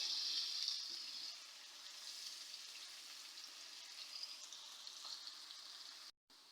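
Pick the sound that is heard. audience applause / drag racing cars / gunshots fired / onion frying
onion frying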